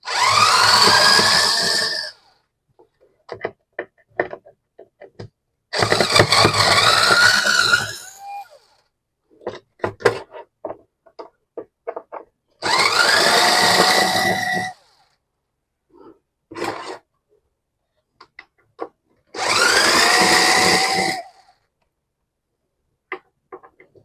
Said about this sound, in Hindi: अब मैं इसके 6 स्क्रू जो लगे हुए हैं उन 6 स्क्रू को मैं खोल के बाहर कर रहा हूँ।